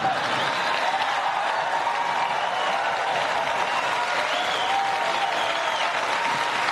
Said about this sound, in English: And that gets a lot of applause here.